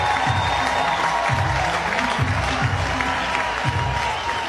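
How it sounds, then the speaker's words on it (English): A softball stadium crowd claps together in a steady unison rhythm, roughly a clap every second, under a broad wash of crowd noise. "The crowd claps in unison."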